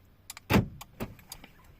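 Universal aftermarket central locking on a Renault Clio 2 unlocking: a sharp mechanical clunk of the door lock actuators, followed by a softer second clack and a few faint clicks, close and brief.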